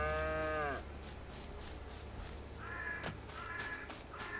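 Cows moo in the video game Farm Sim 22: a long, loud moo at the start, then two more drawn-out moos later over steady farm ambience, with no talking.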